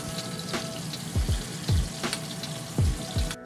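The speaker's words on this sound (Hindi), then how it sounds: "आलू को फ्राई करते टाइम आप एक ढक्कन लगा दीजिए गाइस" Potatoes fry in a pan at home under a lid, a steady bubbling sizzle running throughout, broken by a few louder pops and crackles.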